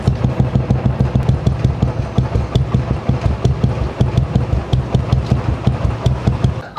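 A Royal Enfield Classic 350 motorcycle thumps out a steady, loud, rhythmic exhaust note with evenly spaced low pulses, close by and continuous with no voices.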